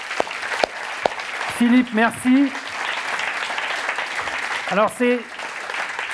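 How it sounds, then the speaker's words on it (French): An audience applauds at a live French event broadcasting the InSight landing on Mars, a steady wash of clapping running under a man's speech throughout. "vous pouvez applaudir deux fois"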